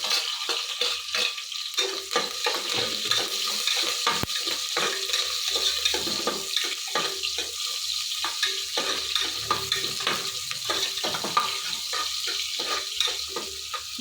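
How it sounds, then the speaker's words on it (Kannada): Curry leaves and onions frying in a pan for beetroot kurma give a steady close sizzle with frequent stirring scrapes and clinks, continuous for the whole stretch with no voices. "ಈಗ ಕರಿಬೇವು ಹಾಕ್ತಾಯಿದ್ದೀನಿ ಈರುಳ್ಳಿನೂ ಹಾಕ್ತಾಯಿದ್ದೀನಿ"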